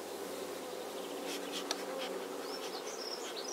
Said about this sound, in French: Donc, on va redescendre les abeilles.